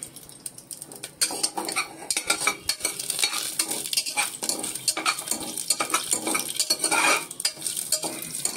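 Whole spices including cloves fry in a pan for coconut rice, with a steady broadband sizzle, scattered crackles and occasional stirring clinks of a utensil against the pan, close and moderately loud without speech.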